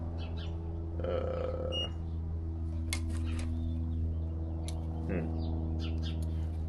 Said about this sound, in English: See if I can continuity test this.